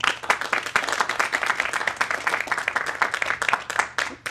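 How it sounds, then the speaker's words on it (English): Town hall audience on vaccinations breaking into applause, a dense, steady crowd of clapping hands sustained throughout without a break. "Those who believe no, please applaud."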